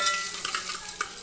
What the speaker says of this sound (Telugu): ఒక బౌల్ పెట్టి కొంచెం నూనె పోసుకొని ఉల్లిగడ్డ, పచ్చిమిర్చి, పుదీనా, అల్లం వెల్లిగడ్డ, పసుపు వేసుకొని నూనెలో